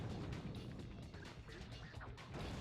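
Relentless explosion sounds in the Blade II video game, a continuous roaring wash of blasts and crashes at full volume, with no pause across the short stretch.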